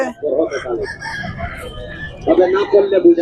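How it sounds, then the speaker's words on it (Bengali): Roosters crow loudly and close by at a cockfight in a busy weekly village market, two strained crows split by a short pause, with clucking and crowd noise around them. "এই দেখো লড়াচ্ছে, দেখো এই দেখো মুরগা লড়াই"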